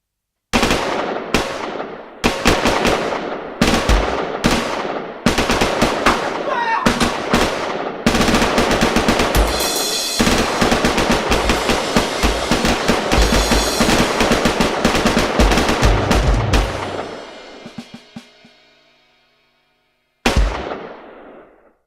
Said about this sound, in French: Une fusillade.